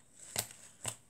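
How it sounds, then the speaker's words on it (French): Scissors make two quick, crisp snips a half second apart, close and faint, while trimming leftover tatting lace scraps for small art trading cards. "Là, je vais couper là-dessus."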